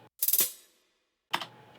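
A live hi-hat roll layered with a programmed hi-hat roll: a dense burst of rapid, crisp metallic ticks that fades out, then after a short silence a second, shorter flurry.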